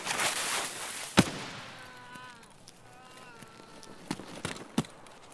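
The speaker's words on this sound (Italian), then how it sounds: "questi fanno esplosioni potenti" Explosions and gunfire in the shooter game Escape From Tarkov: a sharp nearby blast, then a distant rolling rumble with a few further sharp bangs, while a voice speaks in the middle.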